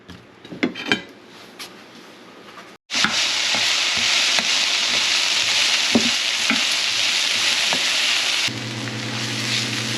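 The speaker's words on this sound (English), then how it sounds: "we're going to saute this onion down. So leave this on high." Onion sautéing in oil over high heat, with a loud continuous sizzle and the repeated scrape and clack of a utensil stirring around the pan.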